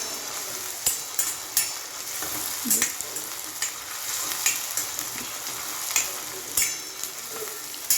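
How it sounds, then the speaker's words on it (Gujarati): Ginger, green chilli and garlic paste frying and browning in a pan for a dried fenugreek and papad curry: a steady close sizzle broken by occasional clicks of stirring, with no one speaking. "આ છે આપણે આદુ લીલા મરચાં અને લસણની પેસ્ટ એ પણ અંદર એડ કરી દઈશું જો અને થોડી વાર સરસ બ્રાઉન થવા દેવાની"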